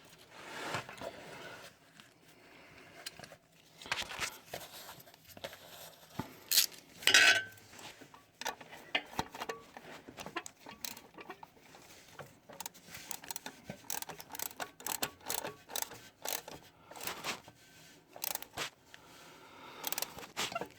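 A 13 mm socket on a ratchet tightens the starter cable nut on a Dodge Ram 1500 5.7, giving intermittent quiet metallic ratchet clicks and tool clinks in short bursts with pauses between.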